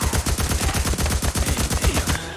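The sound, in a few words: gunfire from the video game Days Gone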